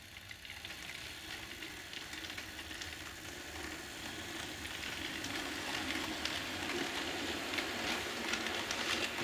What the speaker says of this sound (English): There's the F7, so we'll give it a run with the coaches.